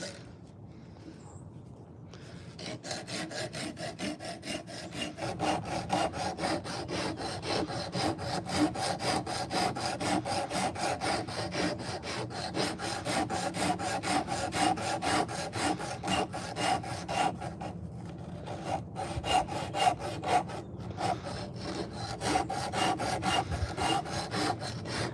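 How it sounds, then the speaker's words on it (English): A high-speed sander carves a fork from old nectarine wood, making a continuous close, gritty whine with a rapid rasping texture that starts after a brief quiet moment and keeps steady throughout. "I'm carving a little bit of a fork this morning from an old piece of nectarine tree wood, and kind of experimenting and using the high-speed sander here."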